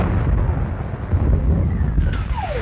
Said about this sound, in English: That's a gun to the Second Army.